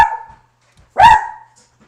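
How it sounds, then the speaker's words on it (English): Dogs barking nearby in a home: a short yelp at the start, then a single louder bark after a pause, with no talk over them. "These dogs are going crazy."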